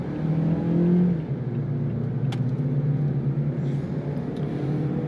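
A Rolls Royce car in sport mode accelerates with a steady low engine rumble and drone, swelling briefly early on, heard from inside the cabin without talk.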